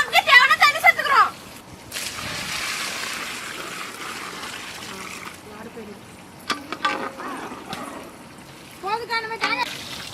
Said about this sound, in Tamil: நண்டு குழம்புக்கு தேவையான தண்ணி சேர்த்துக்கிறோம்